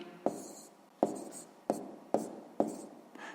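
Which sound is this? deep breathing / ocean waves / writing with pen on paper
writing with pen on paper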